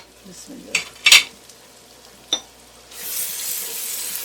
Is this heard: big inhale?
no